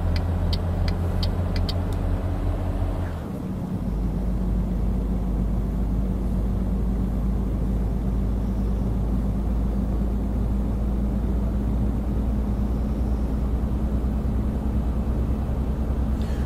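Renault Magnum truck engine in Euro Truck Simulator 2, starting with a steady revving tone that drops away after a few seconds into a deep, continuous rumbling drone, loud and close, with no voices.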